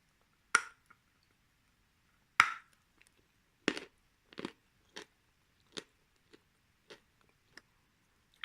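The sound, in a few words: crunchy clay being bitten and chewed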